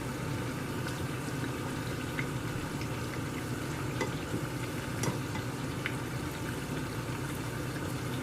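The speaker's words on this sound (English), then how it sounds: "You're going to hear a little more sizzle when the pan's getting as hot as we want" Patty melt sandwiches grilling in a hot diner pan, giving a steady, close sizzle and crackle with occasional sharper pops throughout, no talking.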